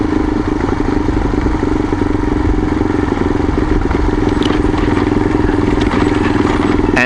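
A small dirt bike engine runs steadily on a gravel forest road, a continuous mid-pitched motorcycle drone with some rattling clatter throughout, close and fairly loud, no talking.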